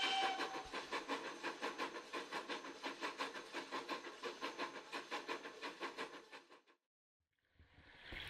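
The Jacobite steam train at Glenfinnan, Scotland, chuffs steadily with rapid rhythmic puffs and hissing, loud and close, fading away before a brief quiet and a rising rush of noise.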